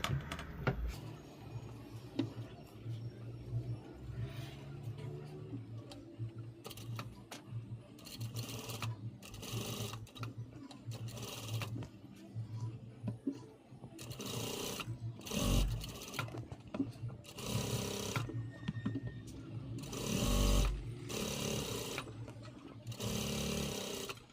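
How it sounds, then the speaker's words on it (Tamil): A sewing machine stitches net onto a baby's party frock in short rapid bursts separated by pauses, each run a fast, close mechanical clatter. "இப்போ வந்து இதுக்கு மேலே நெட்டை வச்சு தைக்கிறேன்"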